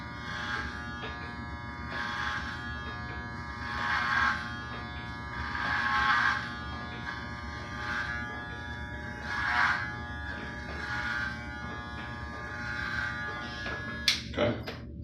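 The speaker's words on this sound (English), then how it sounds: "So you see how I'm shaving it straight back?" Electric hair trimmers buzz steadily while shaving a head bald, the motor tone swelling and easing in passes as the clippers run straight back over the top of the scalp, ending with a brief clack near the close.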